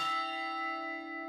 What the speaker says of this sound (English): There are 19 bell ringers who pull on the ropes and play the bells